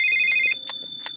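A mobile phone rings in a home: a steady electronic ringtone tone sounds for about half a second, followed by two short bright chirps, fairly loud and with no talk over it.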